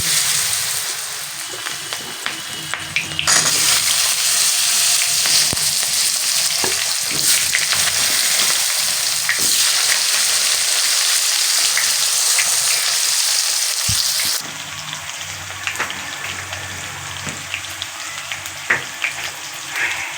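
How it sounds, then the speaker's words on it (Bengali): Loud, continuous sizzling of chopped potatoes tossed into hot oil with frying rohu fish, cauliflower and whole cumin, with crackles and stirring scrapes throughout and a brief louder burst near the start. "এবারে আমি এর মধ্যে দিয়ে দেব টুকরো করে কেটে রাখা আলু।"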